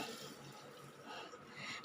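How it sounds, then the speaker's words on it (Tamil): Water being poured onto washed rice to soak it in a kitchen, a soft, steady splashing pour that is fairly faint and runs continuously with no talk. "இப்போ இதற்கு தண்ணி ஊற்றிடலாம்"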